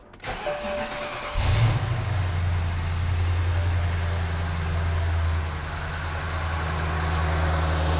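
A BMW E70 X5 V8 cranks briefly and catches, then settles into a steady, close idle with a low rumble that runs to the end of the clip.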